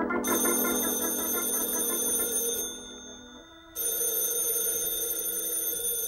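A telephone bell rings steadily and loudly for several seconds with a bright sustained tone, breaks off briefly, then rings again, alone with no talk.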